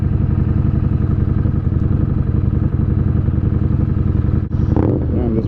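A Harley Davidson Street Rod motorcycle rides through downtown Dubai, its engine a loud, steady, throbbing rumble that holds throughout before a brief dip and a quick rev near the end.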